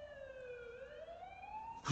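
An ambulance siren from The Coma: Cutting Class wails alone in a smooth rising and falling sweep, moderately distant and fairly quiet, ending in a short burst of another noise.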